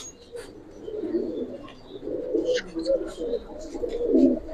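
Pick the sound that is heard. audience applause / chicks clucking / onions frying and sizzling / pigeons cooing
pigeons cooing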